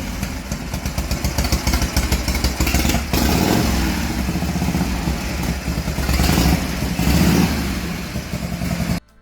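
A vintage Harley-Davidson FXE motorcycle engine runs steadily and loudly up close, its rumbling, clattering tone with slight revs holding for about nine seconds before cutting off abruptly.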